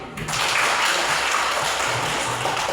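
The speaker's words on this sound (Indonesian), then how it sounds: "Kita tepuk tangan." Children in a classroom clap their hands together, a steady, full burst of applause that starts abruptly and continues throughout, with no talk over it.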